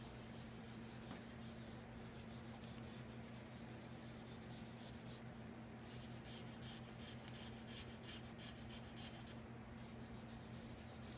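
Charcoal rubbed and blended by hand across paper while shading a sphere, a steady soft scratchy friction with faint strokes running continuously and close, with no talking.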